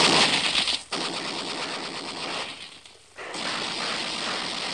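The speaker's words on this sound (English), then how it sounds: "there's a sudden hideous din of both machine gun and rifle fire" Machine gun and rifle fire from a gun position in an old radio drama, a loud continuous rattling din with two brief dips before the rapid bursts resume.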